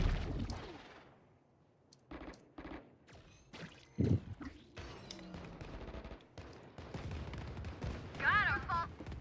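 Rapid bursts of gunfire in a video game shooter, sharp repeated shots with gaps between volleys, mixed with excited talking.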